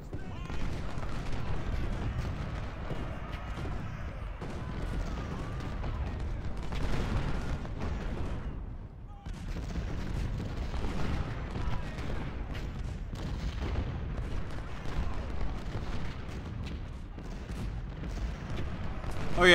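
Artillery cannon fire in the Civil War strategy game Ultimate General: Civil War, defending Cemetery Ridge with guns alone: repeated booming salvos and crackling volleys roll on almost without pause, loud and dense throughout.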